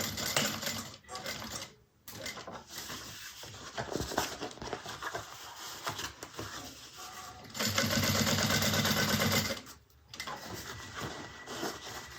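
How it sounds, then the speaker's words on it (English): A sewing machine top stitches a fabric bag, running in close, loud bursts of rapid needle chatter broken by short pauses and a longer steady run. "And then I'm going to top stitch again on the other side."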